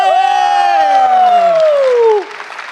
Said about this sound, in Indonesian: Sekali lagi boleh tepuk tangan buat Ridwan Remil